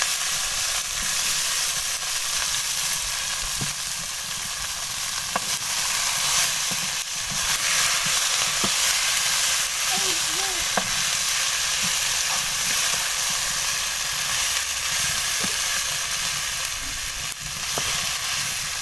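Mashed potato bharta fries in a pan, giving a continuous hissing sizzle, with intermittent scrapes and clicks of stirring against the pan and no voices.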